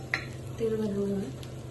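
Oil heating in a pan for a Malvani coconut-milk paplet fish curry, with a soft steady sizzle and a brief clink of utensils near the start.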